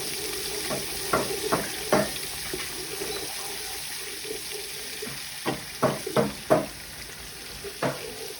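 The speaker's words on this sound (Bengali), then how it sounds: "সাথে রসুন কুচি, পেঁয়াজ কুচি, এগুলো দিয়ে একটু ভেজে নেব।" Chopped garlic and onion frying in a pan with a low continuous sizzle, broken by scattered scraping knocks of a utensil stirring, clustered in two bursts.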